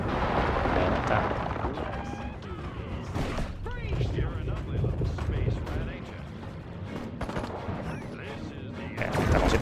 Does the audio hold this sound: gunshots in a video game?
yes